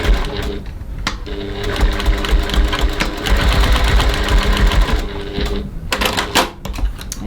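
A sewing machine top stitches a sling bag in a steady rapid mechanical whir that runs continuously for several seconds, stopping briefly near the end, with no talk.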